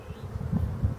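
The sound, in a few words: honeybees buzzing at the hive frame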